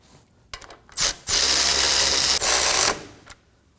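A ratchet is spun on the front brake caliper bolts of a 2016-2020 Kia Sorento. There are a few light clicks, then a loud, close, continuous ratcheting run of about two seconds with a brief break, and no voices.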